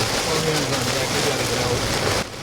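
Heavy rain pounds a car in a steady, dense hiss during a storm chase, loud and continuous before dropping off abruptly near the end.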